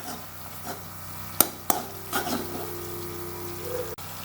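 A spoon stirs soy sauce into a tofu stir-fry sauce in a hot pan, giving soft scraping and a low sizzle with a couple of sharp clinks against the pan.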